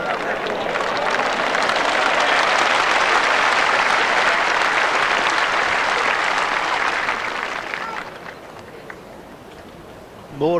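A crowd gathered beside a bowls green at the 1984 World Singles final claps in a loud, dense burst that holds steady for about eight seconds, then thins and fades, with a few murmuring voices at the end.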